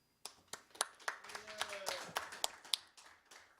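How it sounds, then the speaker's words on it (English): Light, scattered clapping from a small audience at a Thursday night live event: a dozen or so distinct, uneven claps that never build into full applause, with a brief voice murmuring in the middle. "We'll give her a little applause."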